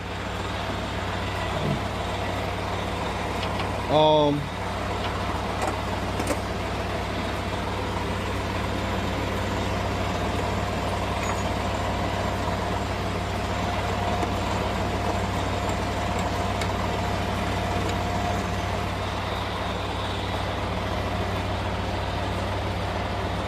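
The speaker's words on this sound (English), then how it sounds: "I turned the PTO on in the truck. That's gonna be the thing that gives the compressor power to pressure up the tank." A tanker truck idles with its PTO engaged to drive the compressor that pressurizes the tank, giving a steady, loud, continuous engine drone throughout, with a brief louder hiss or chirp of air near the start.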